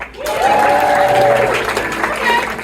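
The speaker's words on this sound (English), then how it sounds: "Clap your hands if you've seen improv before." Audience at a live improv comedy show breaks into loud, sustained clapping that fills the room for a few seconds, with some cheering voices mixed into the dense applause.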